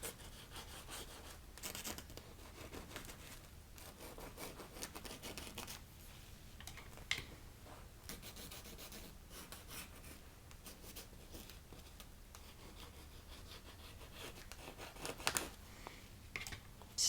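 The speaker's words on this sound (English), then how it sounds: "Doing a little scraping and scratching in." Charcoal is scraped and scratched across a sketchbook page in a quiet room, a faint, irregular run of rough rubbing strokes with brief pauses, close and soft, with no talking.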